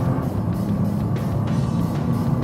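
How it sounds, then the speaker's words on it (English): A 2014 Nissan GT-R R35 Premium drops a gear and accelerates hard, its engine giving a steady, loud, close-up roar that holds without a break. "Drop down a gear, hammer it"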